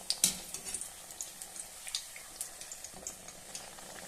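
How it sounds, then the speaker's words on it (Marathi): Pumpkin gharge frying in oil, a quiet steady sizzle with soft crackling pops and bubbling bursts at an irregular rhythm, close and alone without talk. "घाऱ्या तळून घ्यायचे."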